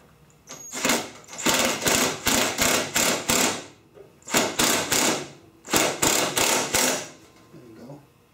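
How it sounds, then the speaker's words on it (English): A nut being worked with a 13mm open end wrench on a Polaris Razor S 900 door install, with repeated close bursts of quick ratcheting clicks in groups separated by short pauses. "So this nut actually gets a 13mm open end wrench."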